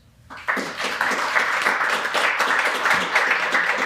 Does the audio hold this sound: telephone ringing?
no